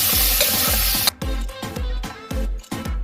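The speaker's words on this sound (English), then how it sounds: "then you're gonna put in all your onion and garlic and ginger, and then you start stirring" Onion, garlic and ginger are stirred in a frying pan, a loud sizzle with a rhythmic series of spatula scrapes and knocks, about one every half second, the frying hiss dropping after the first second.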